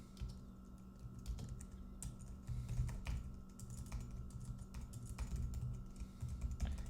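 Steady clacking of a computer keyboard as CSS code is typed for a WordPress Gutenberg block, a continuous quick patter of keystrokes, close and fairly quiet, with no talking.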